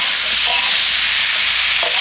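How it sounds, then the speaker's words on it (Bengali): Kohlrabi and potato sautéing with salt, turmeric and chopped tomato in a pan, a loud, dense, continuous sizzle with faint stirring underneath. "এবার আমি একসাথে ভালো করে ওলকপি আর আলুটা আমি ভালো করে কষিয়ে নেব"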